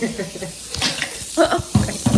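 Running water in a kitchen, a hissing tap stream with splashes rising in bursts near the end, while a person talks over it.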